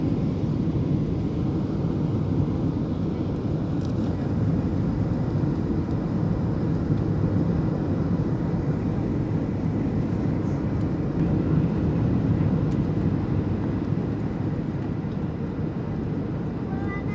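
Steady low engine roar and rushing air inside the cabin of a Qantas Boeing 737 on a bumpy approach into Melbourne, a continuous loud drone with faint rattles and a voice in the background.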